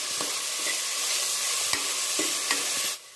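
Sliced onions frying with salt in a pan, a steady close sizzle broken by a few sharp scraping stirs before cutting off near the end.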